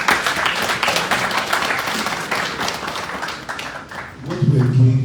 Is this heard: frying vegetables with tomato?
no